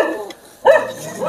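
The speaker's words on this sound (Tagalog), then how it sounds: "Talagang aso ito." A dog barks at close range in a village home in Samar at night, a short burst of two or three yips and barks after a brief quiet, with faint household background.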